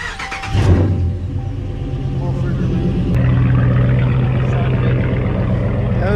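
A wrapped Ram 1500 pickup truck idles with a deep, steady engine rumble close by, the tone swelling slightly after a brief rev at the start, with people talking nearby.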